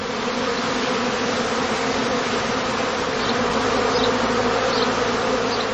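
Honeybees swarming out of a heather skep in a heathland apiary, a dense, steady, loud humming drone that carries on unbroken, close and alone.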